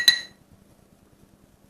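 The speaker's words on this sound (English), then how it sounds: "put about 4 ice cubes in here" An ice cube drops into a tumbler for a Manhattan with one bright, sharp glassy clink up close, quickly fading to near silence.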